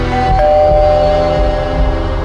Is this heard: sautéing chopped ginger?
no